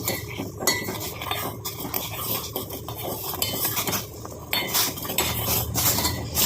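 Spoon stirring a jaggery and sugar mixture in a metal pan, with steady scraping and clinking of utensil against the pan throughout, close and moderately loud, no talking.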